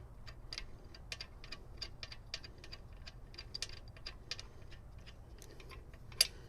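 A ratchet tightens a bolt on a bracket during a DQ500 transmission swap into a Mitsubishi Lancer Evolution VIII, giving a fast, steady run of quiet clicks with one louder snap near the end and no talking.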